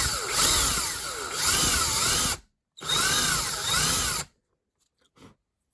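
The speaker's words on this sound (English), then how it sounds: "I might drill the eye sockets and start working on some details" A power drill bores eye sockets into a handmade wooden swimbait, two loud whining runs with rising and falling pitch as the bit bites, split by a brief silence, then a faint click as it stops.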